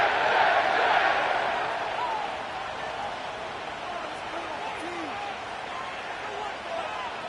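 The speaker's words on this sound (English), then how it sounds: "The crowd is definitely ready." A football crowd roars in a wide, steady wash at MetLife Stadium in East Rutherford, New Jersey, loudest at the start and then easing slightly. A commentator speaks over it.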